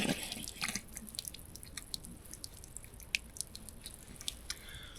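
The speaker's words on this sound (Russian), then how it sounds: "Пока вода не замерзла, надо умыться." Someone splashes water onto their face to wash before it freezes, a quiet scatter of small drips, splashes and trickles at close range, with no talk.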